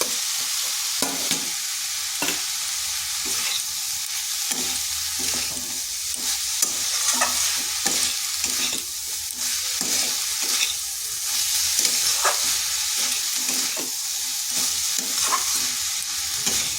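Potatoes and banana stem (thor) being stir-fried in spices in a pan, with a steady broadband sizzle and repeated scraping stirs throughout, close and fairly loud, no voices.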